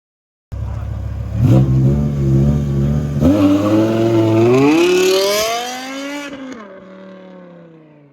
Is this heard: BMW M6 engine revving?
yes